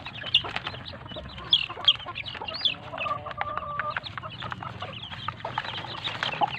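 Backyard chickens and two-week-old chicks clucking and peeping close by, with bursts of cheeping over a steady low murmur of hens, some louder calls standing out.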